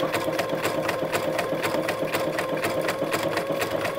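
A sewing machine runs a satin stitch at an even pace, with a close, steady whirring motor and quick regular needle ticks continuing throughout, and no talk over it.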